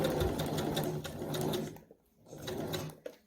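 A sewing machine stitches a ruffle dress in steady rapid bursts, pausing briefly before resuming, with a clear mechanical hum and ticking close by.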